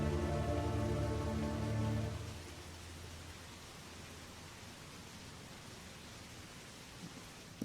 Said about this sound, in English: It's actually raining in real life right now.